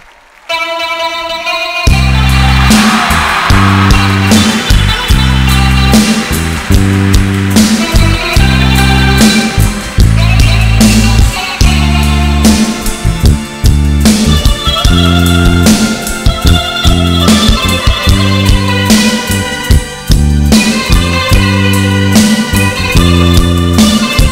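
A popular Latin band plays a loud, steady, rhythmic medley that opens with a song, with a dense, continuous instrumental sound throughout.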